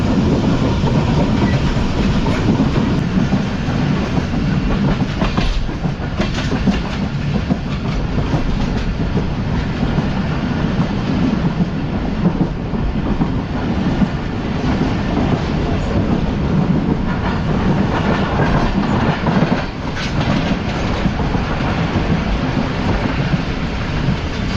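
Karachi Express train running on the rails on a winter journey: a steady, close, loud rumble with a continuous rattling clatter of the coaches that never lets up, and no voices.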